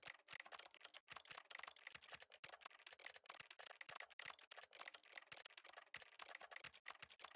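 Clicky mechanical keyboard keys are typed quickly and continuously. The rapid stream of sharp, fairly quiet clacks runs for about seven seconds with no voices.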